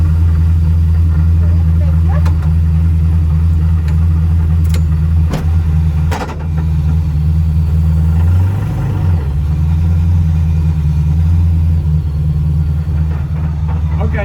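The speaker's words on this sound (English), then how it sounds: "Carolina, the Polish chick that drives the supercharged LS S15, has offered to give me a ride." A supercharged LS-swapped Nissan S15 heard from inside during a ride at JapFest, a deep, loud V8 rumble idling and revving with a swell in the middle and some clicks and knocks.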